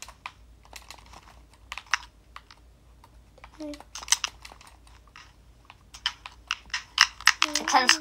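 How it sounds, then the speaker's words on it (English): Rapid, intense keyboard and mouse clicking during a Treasure Wars gaming session, dense bursts of clicks that grow louder and busier toward the end, with a brief voice partway through. "Intense clicking."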